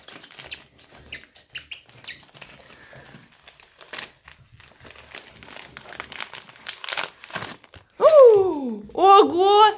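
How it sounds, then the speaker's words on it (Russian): A dog tears and crinkles a plastic package, sharp rustling bursts and crackles close by, followed at the end by loud excited speech from a woman. "Медведь, ты же не будешь есть его прям с оберткой?"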